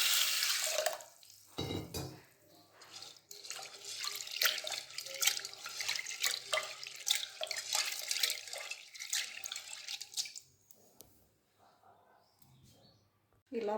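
Roasted chana dal is rinsed in a pressure cooker under a running kitchen tap, giving close, uneven splashing and gushing water for about ten seconds before it tapers off into quiet.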